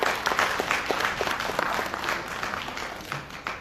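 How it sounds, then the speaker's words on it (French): An audience at a sickle-cell disease conference applauds to welcome a doctor, steady close clapping from many hands sustained throughout, slightly easing toward the end. "Je vous demande d'applaudir."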